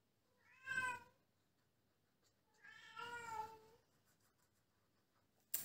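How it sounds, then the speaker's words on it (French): A domestic cat meows twice, each call clear and fairly close, with a quiet pause between them and no talking over it. "Mon chat passe son temps à miauler pour sortir"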